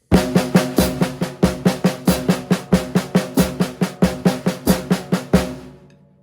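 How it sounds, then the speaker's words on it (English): Rapid drum strokes playing a paradiddle-diddle in eighth-note triplets, a steady rolling pattern with accented hits, played alone and ending with a ringing decay. "So if we play a Paradiddle-diddle in eighth note triplets"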